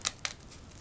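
An X-Acto knife cutting through a plastic clone insert for a grow tower, two short scratchy slicing strokes close up, then a faint trailing scrape.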